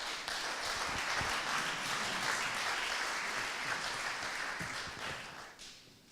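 Sustained audience applause at the Montgolfier award ceremony, a dense even wash of clapping from a crowd in a hall that holds steady before fading out near the end.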